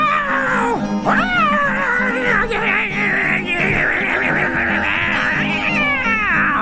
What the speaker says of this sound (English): in walked Arthur carrying a wildly struggling feral cat